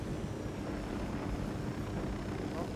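A helicopter in the Ghost Recon video game gives off a low, steady rotor and engine drone, quiet and continuous, sitting beneath faint background sound throughout the short stretch.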